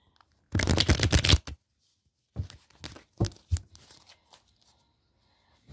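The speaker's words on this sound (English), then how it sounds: "Shuffle the cards." Playing cards are shuffled with a fast riffling burst, followed by a few shorter shuffles and taps, close and clear in a quiet room.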